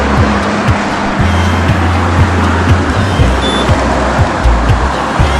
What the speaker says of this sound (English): we're across a noisy road